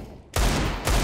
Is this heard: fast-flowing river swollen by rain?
no